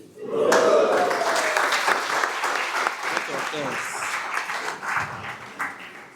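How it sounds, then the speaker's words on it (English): A crowd applauds a chairman loudly and steadily for several seconds at a student scholarship award event, with a voice briefly audible over the clapping before it tapers slightly. "one more time, let's give the chairman a round of applause"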